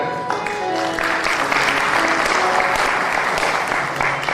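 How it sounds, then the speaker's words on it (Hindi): Audience applause welcoming a saint at a Shrimad Bhagavat katha gathering, dense, steady clapping from a large crowd that rises and holds for several seconds, with faint voices at the start. "सभी उनका स्वागत करेंगे तालियां बजाकर"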